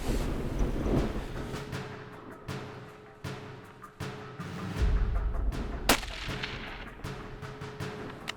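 A rifle shot fired at a golden wildebeest roughly 460 yards away on a South African hillside hunt, coming as a sharp loud crack with wind rumble around it.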